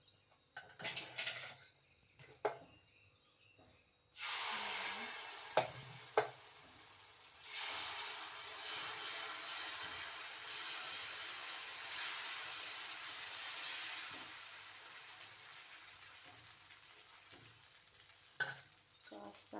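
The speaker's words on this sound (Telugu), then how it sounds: "ఈరోజు నేను పెసరట్టు దోశ వేస్తున్నాను" Pesarattu, a green gram dosa, hits a hot pan after a few clinks of utensils, then sizzles steadily for a long stretch before fading toward quiet scraping taps.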